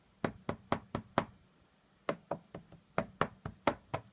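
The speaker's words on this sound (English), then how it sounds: "a quick little demonstration of the knocking noises I was telling you about" Sharp, hollow knocking taps from typing on an iPad screen come in quick bursts, a group of five, a pause, then a faster run of taps, close and crisp.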